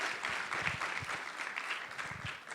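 Audience applause at a film festival talk, a steady spread of clapping from a crowd, moderately loud and sustained throughout without speech.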